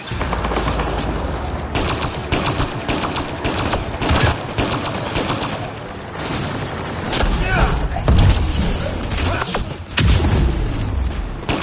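Sustained turret gunfire and explosions in the video game Mass Effect Andromeda, with dense rapid bursts, booms and mechanical clatter filling the mix continuously and game voices mixed in.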